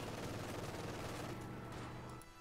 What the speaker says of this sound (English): Conscripts there taking a few hits there from the MG